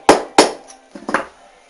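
A hammer strikes the casing of a Simson moped engine being dismantled: two sharp metallic knocks, then a pair of lighter taps, close and loud with brief ringing.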